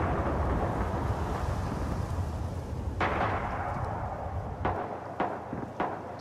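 Explosions in the Red Orchestra 2 war game: one sharp blast, then several quicker cracks, heard over a constant rumble of wind and battle noise.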